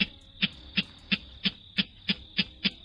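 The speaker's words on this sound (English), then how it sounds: "Today's Talkin' Birds featured feathered friend, Rallus crepitans, the clapper rail" A clapper rail (Rallus crepitans) calling in a series of nine sharp, evenly spaced clacking notes, each a bright percussive burst, loud and close against quiet background.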